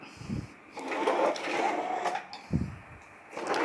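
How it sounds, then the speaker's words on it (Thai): An automatic person-tracking electric fan driven by a 100 rpm DC gear motor rotates with a quiet, steady mechanical whir, broken by a few soft clicks and thumps. "พัดลมก็หมุนนะครับ ตามปกติครับ"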